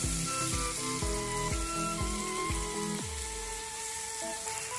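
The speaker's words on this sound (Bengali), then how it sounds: "পেঁয়াজটাকে ভালো করে লাল করে ভেজে নেব" Onions fry in a pan to brown, making a soft, continuous sizzle heard alone at low volume, with a few ringing tonal notes sounding over the frying.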